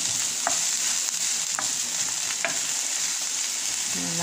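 Red onion sizzling in hot oil in a pan, a steady fry hiss with a few distinct scrape-and-stir strokes of a utensil, close up with no talk.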